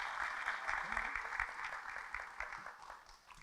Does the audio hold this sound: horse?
no